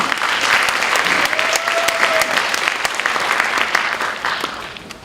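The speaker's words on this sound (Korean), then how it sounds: "박수 한번 부탁드리겠습니다" Congregation at a university Sunday worship service applauding the choir, a steady, dense, loud round of clapping filling the whole stretch and tapering slightly at the end.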